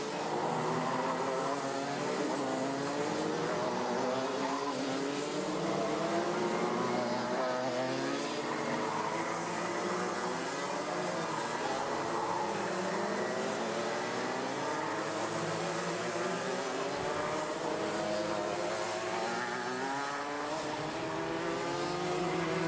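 Race cars speed through a chain of corners on a circuit during a race, their engines droning loud and continuous with shifting pitch as they pass, no pauses.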